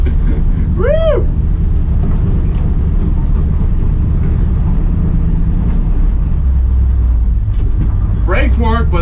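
An old truck back on the road after sitting for 15 years, with rusty brake drums, driving with a loud, steady low engine and road rumble, while voices talk briefly over it near the start and end.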